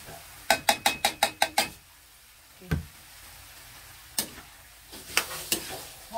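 Canned tuna is tipped onto sayote in a frying pan and stirred, a quick run of sharp metallic scrapes and clacks of a utensil against the pan, then scattered knocks amid a faint sizzle.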